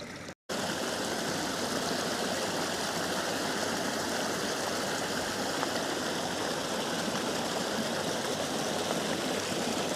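Clear, clean water rushes steadily at the bottom end of a waterfall drawn from a loch, a dense continuous roar heard close and loud after a brief moment of silence at the start.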